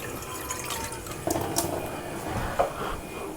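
Water running from a kitchen tap into a vessel while cooking, a steady rushing splash with a few brief knocks and clatters, fairly close and with no voices.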